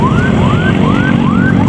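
An ambulance siren on Jalan John Ario Katili wails loudly and close by in quick repeated rising sweeps, with road traffic rumbling underneath.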